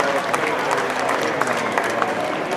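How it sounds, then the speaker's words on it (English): An audience at a cosplay competition final applauds the under-16 finalists, a dense burst of clapping that rolls on steadily throughout. "Let's have a big round of applause for them just before we start."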